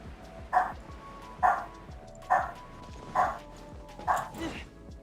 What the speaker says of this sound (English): My dogs literally just go absolutely bonkers